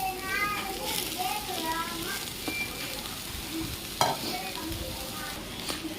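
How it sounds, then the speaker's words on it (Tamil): Banana flower and onion are sautéed in a pan: a continuous sizzle with scraping spatula stirs and a sharp clink partway through, while children's voices chatter faintly in the background. "அஞ்சு நிமிஷத்துக்கு ஒரு வாட்டி இந்த மாதிரி வதக்கி விடுங்க."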